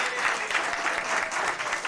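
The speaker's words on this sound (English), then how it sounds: "So, once again, nice round of applause for Dennis Novato." Steady applause from an audience at a Thanksgiving polka party fills the whole stretch, a dense even wash of many clapping hands without pause.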